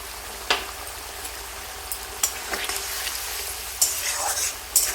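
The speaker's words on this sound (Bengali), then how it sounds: "টমেটোটা যতক্ষণ পুরো ভালোভাবে গলে যাচ্ছে না ততক্ষণ আমি ভাজতে থাকবো আর মশলাটা কষাতে থাকবো।" Tomatoes and spices frying in a pan give a steady soft sizzle, broken by several sharp scrapes and clicks from stirring, without any voices.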